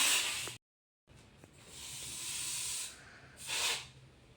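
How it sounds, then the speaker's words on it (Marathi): A monsoon air freshener is sprayed onto curtains in a home: several close hissing aerosol bursts of differing length, one short, then a long sustained spray and a final shorter puff, with a clear gap between. "आपण आता जेवढं पाहिजे असेल तेवढं पडद्यावरती स्प्रे करून घ्यायचा"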